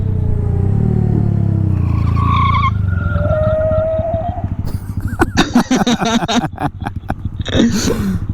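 A Honda Grom motorcycle tire squeals in a long, rising skid on an abandoned lot under a droning engine, followed by rapid rattling and chattering noises and intermittent squeaks.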